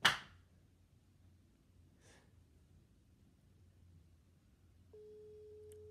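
A phone ringback tone during a prank call, starting near the five-second mark as a steady, continuous electronic tone after quiet room noise and a couple of brief breaths or rustles.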